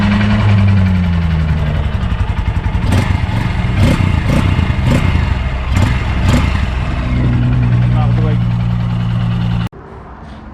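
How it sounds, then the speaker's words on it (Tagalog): A new Honda XR150L dual sport motorcycle engine idles steadily up close, with a low throbbing hum and several brief sharp bursts mid-clip, cutting off abruptly near the end. "Yung tunog ng Honda XR 150L."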